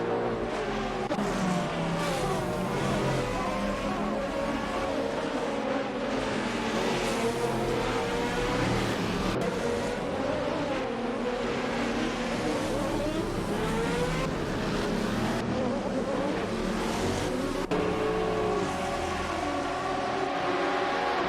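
GTR race cars roar around Road Atlanta in a continuous loud engine drone, with rising and falling revs as cars accelerate, shift and pass by.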